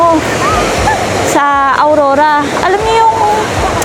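A constant loud rush of waves and surf on a beach fills the background while a person talks over it.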